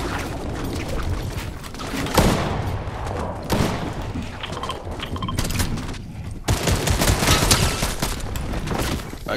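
Bursts of rapid gunfire from a Fortnite Battle Royale match, loud volleys repeating in clusters with sharp onsets, close and continuous through the stretch.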